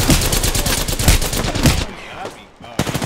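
Rapid automatic gunfire in Apex Legends rattles loud and close in dense bursts, dropping off briefly before another volley resumes at the end.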